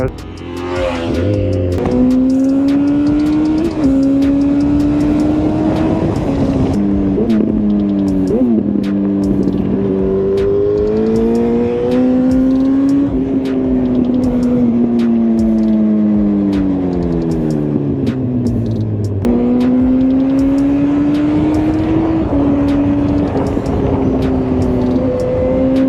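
An MV Agusta Brutale 800 R three-cylinder motorcycle of 110 horsepower rides along a road, its engine rising and falling through gear changes with repeated accelerations and shifts, loud and sustained throughout.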